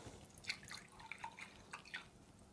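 Orange juice pours from a carton into a pumpkin and apple batter, heard as soft, intermittent drips and splashes, faint and close, with no talking.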